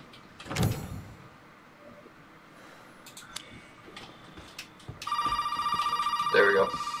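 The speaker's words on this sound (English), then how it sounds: "Cool, now it's ringing." Telephone ringing in the horror video game Resident Evil 7: a steady electronic bell tone sounds from about five seconds on, loud and continuous, after quieter creaks and knocks with no talking.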